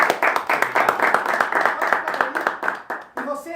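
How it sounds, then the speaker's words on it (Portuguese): A small studio audience claps for a guest at the end of an interview; rhythmic, fairly close hand claps with a pulsing beat, while a voice speaks briefly toward the end. "Uma salva de palmas para Leonardo"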